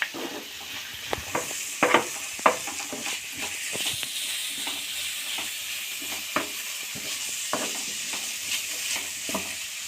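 Chopped onions and bitter gourd fry in a pan for a bitter gourd palya, giving a steady crackling sizzle broken by sharp scraping clicks as a spatula stirs them, close and with no talk.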